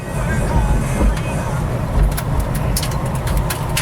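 A 1967 Ford Mustang Fastback restomod cruises along, its engine a steady low rumble under road and cabin noise, with a few sharp clicks and rattles near the end.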